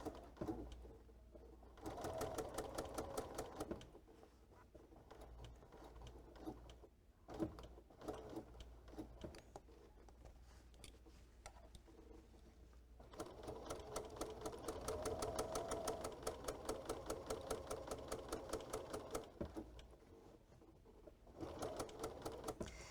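A sewing machine stitching fabric for appliqué runs in a fast, steady mechanical rattle, with brief pauses and changes in speed, close and alone without talk.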